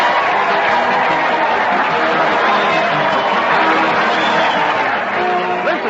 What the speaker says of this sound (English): Listen to that crowd. They're jumping up and down and cheering as Fred Allen leads his weekly parade to the